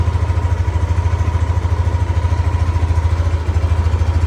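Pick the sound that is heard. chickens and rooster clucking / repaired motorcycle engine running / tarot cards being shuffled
repaired motorcycle engine running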